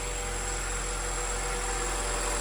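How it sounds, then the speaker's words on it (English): A Honda Integra Type R sits idling, its engine a steady low hum with a constant faint whine above it, unchanging throughout. "The engine sounds good"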